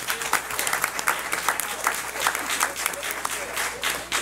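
A room full of people at a county board of education meeting breaks into sustained clapping, dense and fairly loud, with scattered sharper claps poking out of the steady applause throughout.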